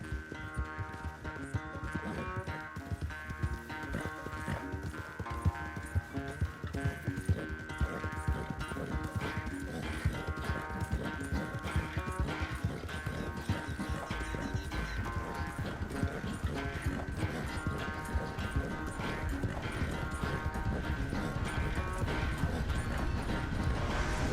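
Horse hooves clip-clop steadily in a video game, set against a dense, continuous musical score that stays loud throughout, with occasional faint whinnies and mechanical creaks.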